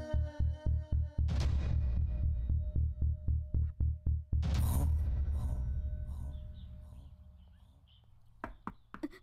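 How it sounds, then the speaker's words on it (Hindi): Someone knocks on a door in a Hindi horror film: a steady run of about fifteen loud, evenly spaced thumps, then a heavier rumbling crash and a few faint taps as the sound dies away. "कोई दरवाजा नॉक कर रहा है,"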